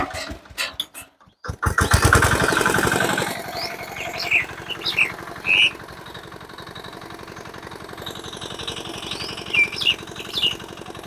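A mini power tiller engine ploughing a field starts with a few sharp bangs, then runs in a steady close chugging rumble with rising revs and faint high squeaks, no talking.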